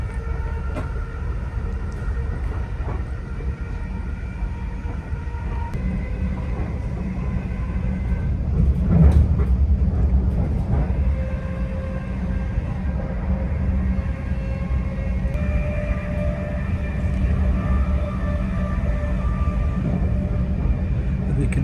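A Southeastern HS1 high-speed train in motion, heard from on board as a steady low rumble and hum that continues throughout with a few brief clunks, while voices talk quietly now and then over it.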